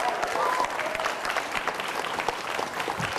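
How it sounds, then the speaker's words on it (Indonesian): Sustained applause from a studio audience rolls steadily for several seconds at a televised political debate, dense and even with no speech over it. "Silakan Mas Budiman, kita berikan tepuk tangan."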